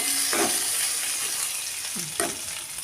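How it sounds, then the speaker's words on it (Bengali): Chopped ginger and bay leaf sizzle in hot oil in a pan, with a few close scraping strokes of a spatula stirring them amid the steady frying hiss. "দিয়েছি আদার কুচি এটাকে আমি ভালো করে নাড়াচাড়া করে নেব একটু ভেজে নেব"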